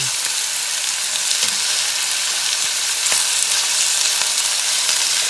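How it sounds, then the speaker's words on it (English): Chicken pieces frying in a hot pan, a loud, dense, continuous sizzle with faint crackles and occasional spits throughout, close up and with no voices. "Now you actually fry these for about 4 minutes per side"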